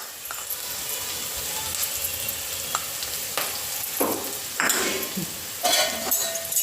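Ground turmeric, cumin, coriander and garam masala roasting in a pan over a low flame, a steady soft sizzle broken by scraping stir strokes and a few louder clatters of the spoon near the end.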